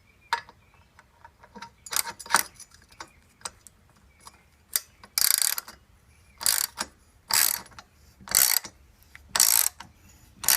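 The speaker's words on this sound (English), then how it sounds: "we're just going to screw this right in. This one uses a standard 5/8 socket." Ratchet socket wrench with a standard 5/8 socket driving a spark plug thread repair tap into a port, heard as close bursts of rapid clicking, several in a row with short pauses, alone without talk.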